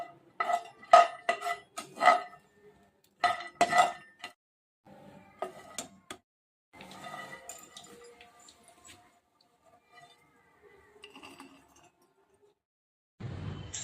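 Cashews roast in a pan over a low flame, with a cluster of sharp metallic clinks and scrapes at the start, then softer, sparse stirring and rustling close by, and no talking.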